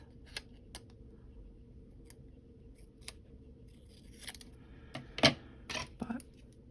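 Scissors snip through a paper planner print for a dinosaur birthday party layout, a handful of sharp close clicks spread across a quiet room, bunching into a louder flurry of cuts near the end.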